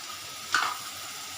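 Spice paste for a prawn curry frying in a pan, a steady soft sizzle with one brief louder stir scrape partway through, no voices.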